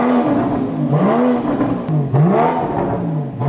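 A newly bought car's engine revs just after starting, rising and falling in repeated swelling pitch sweeps that sound close and loud, with no talk over it.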